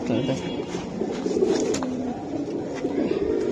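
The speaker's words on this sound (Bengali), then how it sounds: "এই দেখেন দুইটা কবুতর" Two young aluminium-coloured pigeons coo softly in a few low, throaty phrases, with a faint voice in the background.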